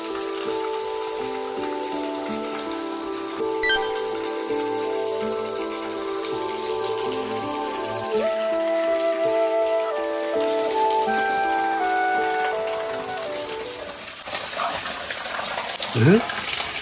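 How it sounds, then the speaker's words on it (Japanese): Ōtabi Falls, a steady rushing gush of falling water close by, constant and fairly loud, with people talking over it and a brief whistle-like sound near the end. "来ました、大旅の滝。"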